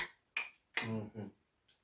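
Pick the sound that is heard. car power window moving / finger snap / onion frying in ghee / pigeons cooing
finger snap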